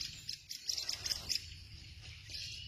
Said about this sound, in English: Those are a couple of robins that are dancing around back here.